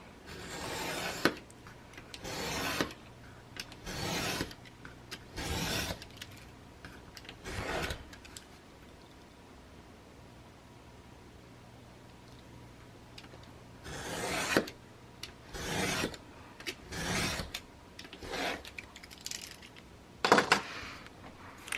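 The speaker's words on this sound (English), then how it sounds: "And then I'm going to cut these 3 pieces apart." Paper pieces for a mini album being cut apart: a series of close, rasping strokes in bursts, several quick cuts, then a quiet pause, then another cluster of cuts, with no talk.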